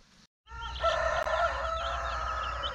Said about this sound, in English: We have all of our baby chicks out here just for the day.